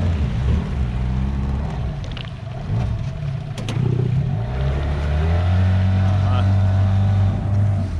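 A boat outboard motor stuck in the shallows of a taiga river runs loudly nearby, its pitch dipping and rising as the engine labors, a steady mechanical hum throughout with no clear talking.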